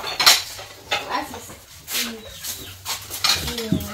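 Plates and cutlery clink as they are set out on a table, with a few sharp knocks and scrapes spread across the stretch while people talk nearby.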